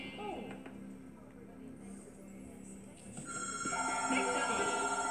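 A telephone rings in New Super Mario Bros. Wii, World 2 against Roy Koopa, a steady electronic ringing tone that grows louder toward the end over game sounds.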